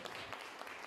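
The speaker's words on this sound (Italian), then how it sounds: "Grazie per l'applauso." Faint, brief audience applause at an outdoor literary talk event, a soft scatter of clapping heard from a distance.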